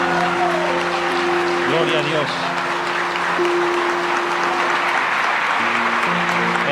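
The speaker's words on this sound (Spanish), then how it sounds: "Vamos a darle un fuerte aplauso a Cristo" A church congregation at a pastors' conference applauds steadily throughout, a continuous wash of clapping under sustained music and a voice.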